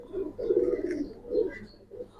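Cooing from Giribaz pigeons at a pigeon market comes in a few soft, throaty bursts, fairly close and moderately quiet, with no speech.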